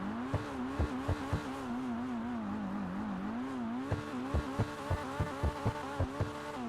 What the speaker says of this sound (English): Now, in terms of the way the vehicle sounds...